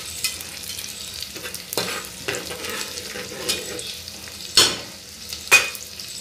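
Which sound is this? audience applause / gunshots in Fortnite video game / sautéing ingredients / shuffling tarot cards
sautéing ingredients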